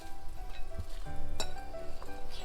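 Cabbage dropping into a pot of borscht soup, bringing a loud sizzle and bubbling with a few clinks and stirring knocks of a utensil against the pot, close up and without talk.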